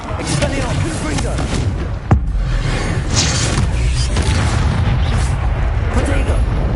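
A Confringo blasting spell goes off in Hogwarts Legacy, a sharp boom landing mid-clip over a dense, continuous wash of game sound and music, with voices present throughout.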